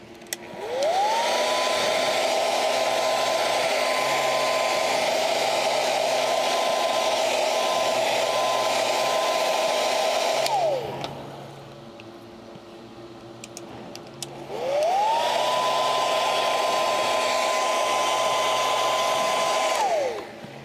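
A hair dryer blows steadily while drying puppet eyeballs in a workshop, running loud for about ten seconds, cutting off briefly, then starting up again.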